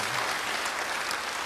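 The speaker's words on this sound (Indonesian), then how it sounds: "Beri tepuk tangan yang baik buat dia." Applause from a church congregation during a sermon, a dense steady patter of many hands clapping at close range without a break.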